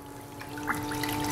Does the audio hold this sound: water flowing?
yes